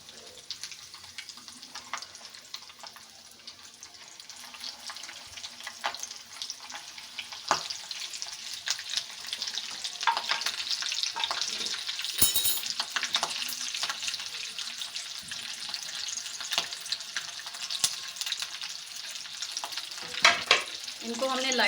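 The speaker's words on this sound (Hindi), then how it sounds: "इसको अब मैं फ्राई कर लूँगी।" Breaded chicken drumsticks frying in hot oil, a dense steady sizzle and crackle with occasional sharper pops and stirring clatter, close and continuous, with no talking.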